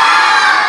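A crowd of children at a theater show shouts "yo" together, hoping to win a gift; the loud, dense group yell sustains without a break for the whole short moment.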